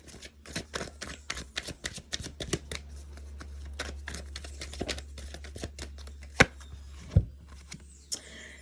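A deck of tarot cards is shuffled by hand, with a rapid run of riffling flicks and taps, close and fairly quiet, ending in a few sharper knocks.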